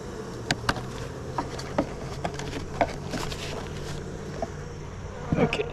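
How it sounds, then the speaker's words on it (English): Honey bees hum around an open hive during an August beehive inspection, a steady close drone with scattered clicks and light knocks from handling the hive frames. "You got bees on the bottom."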